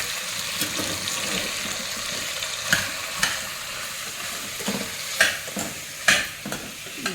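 Chili powder gets stirred into food in a pan for an evening snack, a soft steady sizzle under repeated spoon scrapes and sharp clinks against the pan, with no voices.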